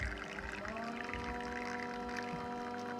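Coffee poured into a cup while brewing Cafepod capsule coffee, a steady close liquid stream running throughout, with low rumbling beneath.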